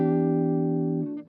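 A single sustained electric guitar chord rings through a guitar amp plugin, bright and steady, fading just before a short noisy scrape at the end.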